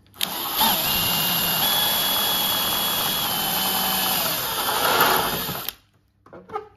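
A power drill drilling a lock cylinder whines steadily at high speed for about five seconds, close and loud, then stops abruptly, followed by a few faint clicks.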